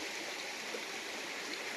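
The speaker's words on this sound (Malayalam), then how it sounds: "അവിടെ നിന്ന് ഇങ്ങനെ ആ പുഴ ഒഴുകി വരുന്നു" A river in Idukki, Kerala, rushes steadily, a continuous even wash of flowing water with no breaks or other sounds.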